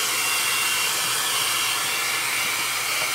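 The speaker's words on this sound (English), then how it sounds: "So I'm actually going to hit it with a hairdryer really quick." A hair dryer blowing steadily and loudly at close range, a constant airy roar used to blow debris off a chalk-painted frame board, with no voices.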